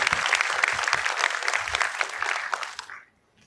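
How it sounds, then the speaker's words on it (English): A convocation hall audience applauds faculty at a PGDM graduation ceremony, a dense, energetic wash of many hands clapping for about three seconds before cutting off abruptly into near silence. "So can we have a round of applause for them?"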